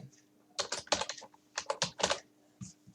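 Typing on a computer keyboard while entering text in MS Word, a quick run of close, crisp key clicks in two short bursts with a brief pause between, no talking.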